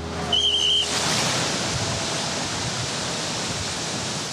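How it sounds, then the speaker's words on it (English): Powerful ocean swell from the Indian Ocean rolls onto a Bali beach as a broad, continuous roar of surf, loud and steady throughout, with a brief high beep near the start. "A powerful swell pushes up from the Indian Ocean."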